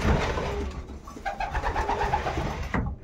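Two-year-old female pigeons coo in a soft repeated rhythm, close by in a pigeon loft, with a faint background hum and no talking.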